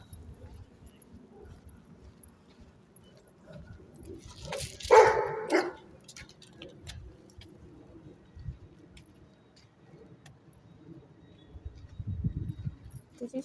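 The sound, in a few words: big black dog barking outdoors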